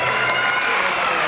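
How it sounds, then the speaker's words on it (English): A crowd applauds at a boys' senior all-star basketball game in a gym, a dense, loud, steady wash of clapping with a few cheers mixed in. "a great big round of applause for Coca-Cola as well for sponsoring Mr. Basketball"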